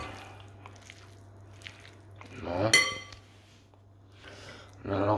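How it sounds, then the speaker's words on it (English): Leftover food stirred gently in a kitchen pot, with soft scraping, a sharp metallic clink of utensil on the pot, and faint clatter between quiet stretches, while a person talks over it. "gently, so just stir it through, nice and easy, like that."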